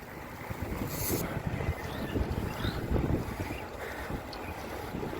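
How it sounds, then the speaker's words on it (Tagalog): Strong wind buffets outdoors on the road to Tagaytay, a rough, gusty roar with low rumbling surges and faint brief chirps above it. "Mahangin na rito."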